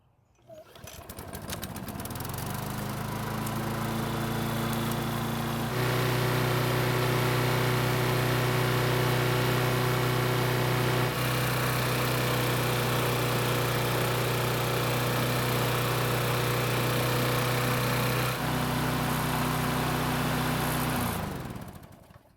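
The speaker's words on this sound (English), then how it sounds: "The engine seems to be running a bit faster with this new carb" Snapper lawn mower engine running steadily after a new carburetor was fitted, a loud close buzzing drone with a constant pitch that starts up, holds for about twenty seconds, then cuts off.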